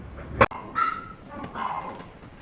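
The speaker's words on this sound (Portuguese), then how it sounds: "Dogs. Podem latir bastante, que vocês cansarem, eu continuo gravando." A few short, high-pitched dog yips and whimpery barks, close by, following a sharp click, with quiet background between them.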